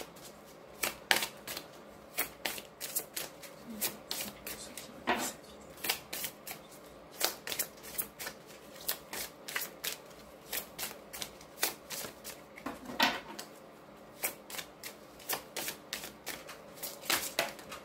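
Tarot cards are shuffled by hand in a quiet room. Sharp, crisp riffles and slaps follow in quick, uneven bursts across the whole stretch, close and fairly loud, with no voice.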